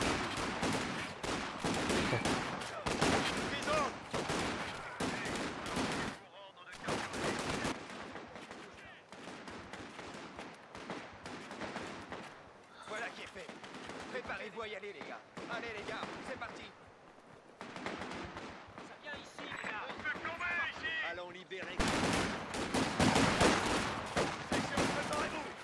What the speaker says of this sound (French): Une mitrailleuse qui arrive.